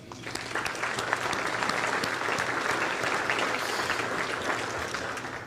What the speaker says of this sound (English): So I want to get just a round of applause for everybody.